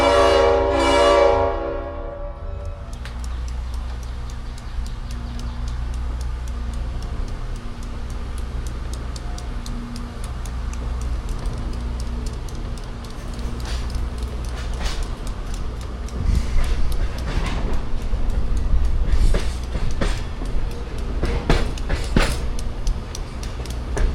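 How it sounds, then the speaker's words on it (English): Heard from inside the caboose, the N&W 620 steam locomotive's air horn sounds briefly at the start, then steady rumbling, clattering rail noise and rhythmic wheel clicks carry on, growing somewhat louder toward the end. "Throughout the morning, I was enamored with 620's air horn, which somehow sounded even better as I now found myself listening from the caboose."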